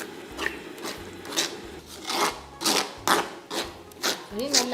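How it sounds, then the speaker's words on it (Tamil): A cocoa and milk sweet mixture is stirred in a pan on a stove turned down low, giving repeated rhythmic scraping and rasping strokes against the pan at close range. "நல்லா அடுப்பை கொஞ்சம் குறைச்சி போட்டால் அதை கிண்டி கொண்டு இருக்கோம்"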